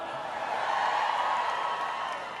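A large Canada Day crowd on Parliament Hill cheers and claps in a broad, steady roar that swells slightly in the middle, spread out and sustained with no single voice standing out.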